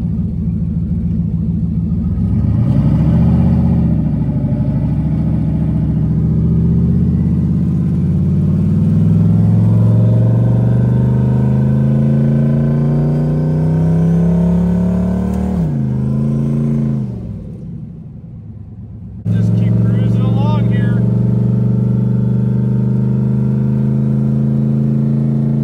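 A no-prep drag race car's engine drones loudly and steadily as it drives, its pitch rising and falling with throttle changes, then briefly dropping off before the rumble picks back up.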